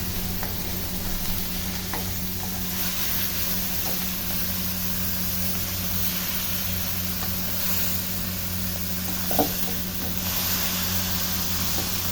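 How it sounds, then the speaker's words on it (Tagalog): Broccoli being stirred in a pan with sesame oil and a sautéed mix, a steady low sizzle with soft scraping strokes throughout, fairly quiet and close, with one brief louder clink near the end. "Now, it's time para haluin."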